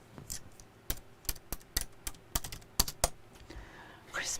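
Fast, uneven clicks of typing on a computer keyboard, sharp and close, with short pauses between bursts of keystrokes in a quiet room.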